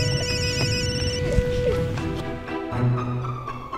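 A telephone rings unanswered, a repeating electronic trill layered over a busy background of other noise.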